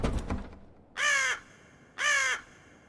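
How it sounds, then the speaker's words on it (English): Two loud, harsh crow caws in the video game Death Mark, about a second apart and each about a third of a second long, close and clear after a brief burst of other noise. "A bird cry breaks the silence. I guess there's a crow or something inside."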